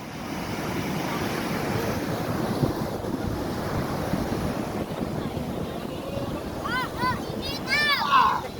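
Sea waves and strong wind roar steadily around a small boat out on the open water, a continuous close rush of surf and gusting wind over the microphone, with voices briefly rising near the end.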